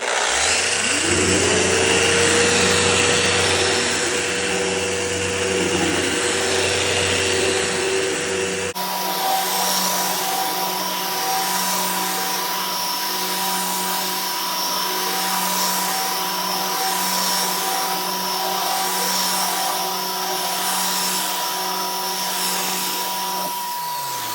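A 1500 floor finishing machine runs continuously nearby on a floor refinishing job, with a loud steady motor whine that rises in pitch at the start and shifts to a brighter, higher drone partway through before winding down at the end.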